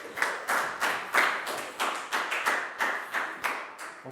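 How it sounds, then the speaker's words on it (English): Small group of children clapping in a classroom, a handful of distinct, fairly even claps about twice a second, close and clear with no talk. "So big round of applause for Lakgao."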